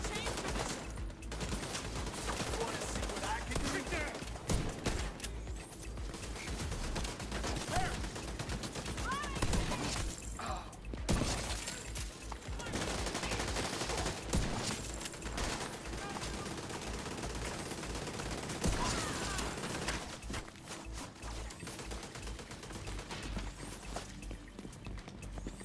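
An enemy turret in The Division 2 fires in steady sustained bursts, with fainter game effects and footsteps mixed in and talk over the top.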